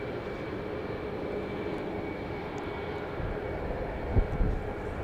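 Boeing 737 Max 8 airliner at Dallas Love Field, a steady broad engine roar held at moderate distance, with a couple of brief low thumps near the end.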